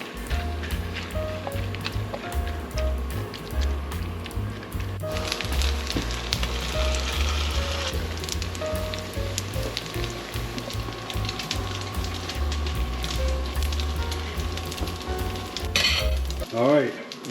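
Leftover spaghetti sizzles and crackles steadily in a hot pan for spaghetti pie, a continuous close frying hiss with stirring scrapes and a low background hum throughout, ending in a brief clatter.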